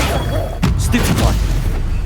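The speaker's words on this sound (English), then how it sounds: "Stupefy" A Stupefy stunning spell from Hogwarts Legacy fires as a sudden sharp burst about halfway in. It is followed by a brief rumbling thud against a steady background of game ambience.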